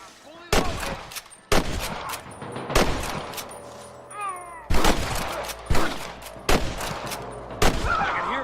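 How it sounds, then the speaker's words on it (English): Video game gunshots in a Wild West setting crack out one after another, about seven loud blasts at irregular intervals with echoing tails and faint background noise between. "I can hear more gunshots."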